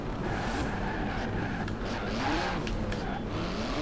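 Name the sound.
twin-turbo flat-six car engine in video game Forza Horizon 4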